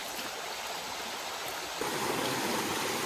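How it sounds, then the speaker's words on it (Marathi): Water flows with full force in a Konkan village stream where crabs are caught, a close, steady rushing roar that swells slightly louder partway through, with no talking. "इकडे पाणी बघा किती फुल फोर्सने"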